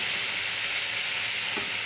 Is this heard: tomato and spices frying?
yes